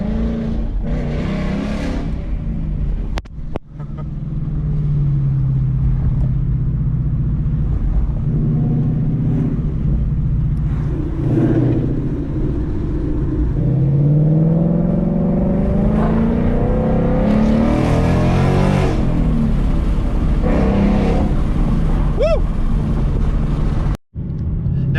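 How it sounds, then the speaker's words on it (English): Ford Mustang GT V8 fitted with catless longtube headers and a Corsa Extreme catback exhaust, idling and revving in rising and falling sweeps, loud and close throughout with brief sharp blips near the end. "I am curious what it's going to do to like the tone of the exhaust."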